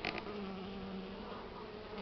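Honeybees hum near their hives in early spring, a continuous bright buzzing drone from many bees, fairly soft and even throughout with no voices.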